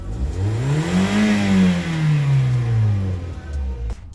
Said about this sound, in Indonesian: kita langsung saja coba untuk test drive Toyota Yaris tahun 2008 ini atau Toyota Yaris Bakpao